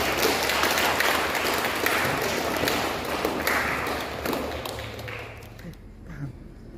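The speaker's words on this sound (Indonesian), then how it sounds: "Kita aplaus untuk mereka ya." A church congregation applauds the couple at a Catholic wedding mass, a moderate, steady clatter of clapping that gradually thins out and fades over several seconds.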